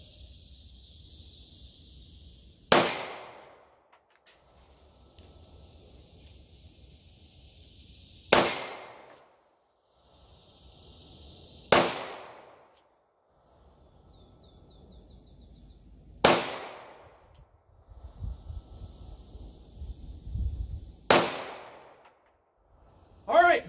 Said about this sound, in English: So, here we go, 5-shot accuracy and function test.